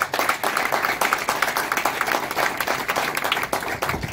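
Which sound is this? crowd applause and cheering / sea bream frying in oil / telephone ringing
crowd applause and cheering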